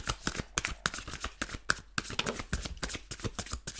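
Tarot cards are shuffled by hand in a steady run of quick, crisp riffling flicks and taps, close up and continuous, with no talking.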